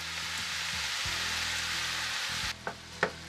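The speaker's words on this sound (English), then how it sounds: "we want to stir it a little bit more to turn it into a nice and smooth mixture" Ground beef frying in a pan with soy sauce: a steady, loud sizzle throughout, with a spoon scraping and stirring through the meat and a few sharp clacks against the pan near the end.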